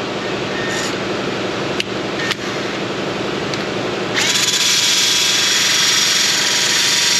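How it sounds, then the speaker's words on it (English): Power tool spinning a large flap wheel against the frame of a Ford Transit 3.7, with a steady high whine that turns louder and harsher partway through as the wheel bites into the metal; no talk. "Get at it with a big flap wheel."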